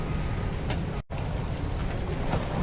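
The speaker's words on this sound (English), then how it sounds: "it's 9:39 and it's still raining" Steady in-game rain from Farming Simulator 19 hisses continuously as a dense, even wash, broken by one abrupt dropout of near-silence partway through, with no talking.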